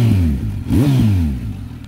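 Kawasaki Z900 motorcycle fitted with a new aftermarket AliExpress exhaust, revving hard from idle: a loud, close engine note that climbs sharply in one quick blip around the middle, then settles back to a steady rumble.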